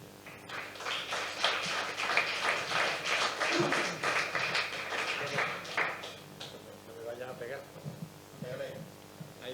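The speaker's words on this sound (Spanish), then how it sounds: "yo voy a pedir un aplauso para que él suba y sea él quien lo lea" Audience applause at a poetry magazine launch at the Ateneo de Jerez, as a poet is called up to read: a sustained, dense wash of clapping for several seconds that fades into room murmur and a few voices.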